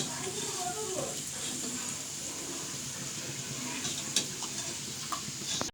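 Onions browning in oil in a wok for cooking magur catfish, a steady soft sizzle running throughout with faint clinks near the end, in a home kitchen.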